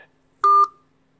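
Telephone dialing tones during a phone call, a single loud two-tone beep lasting about a quarter second, then quiet line hum.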